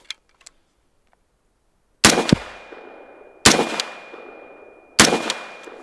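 Three loud, sharp unsuppressed rifle shots from a rifle fitted with an Evolution Weapon Systems bufferless bolt carrier group, spaced about a second and a half apart, each cracking close and ringing out into a decaying echo, after light handling clicks.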